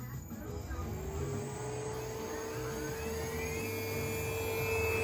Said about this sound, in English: You'll hear the fan of the VFD is way louder than the spindle.